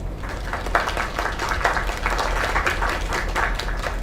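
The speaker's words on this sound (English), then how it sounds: "Another round of applause." Crowd applause in a video game ending scene, a steady wash of clapping and cheering that holds at even loudness for several seconds with no clear talk over it.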